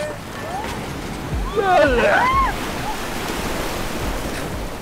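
Sea waves at Tarkarli beach in Malvan give a continuous rushing surf under people's voices, with a brief whistling squeal rising in the middle.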